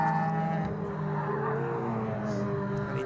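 Race cars braking at Cadwell Park circuit during a summer race weekend: a steady mix of engine drone and tire noise with a descending engine tone as cars slow, heard from a distance under a continuous roar.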